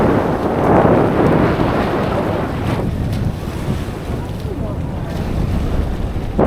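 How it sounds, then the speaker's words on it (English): Boat ride out on the sea off Oslob, Cebu, on a snorkeling trip, with steady wind buffeting the microphone and a broad rush of waves and engine-like rumble throughout, fairly loud and continuous. "So we're gonna hop on this boat."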